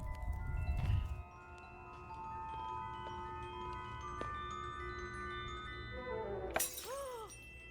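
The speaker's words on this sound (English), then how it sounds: "But did you have to drop the glass?" A glass drops and shatters with a loud crash near the start, followed by ringing tonal music and a later sharp high burst, in a Christmas horror short film.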